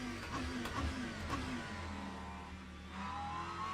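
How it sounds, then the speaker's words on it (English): A race car in the Le Mans Ultimate racing game revs and accelerates, its engine tone rising and shifting through gears at moderate volume with no one talking. "Do love the sound of this car."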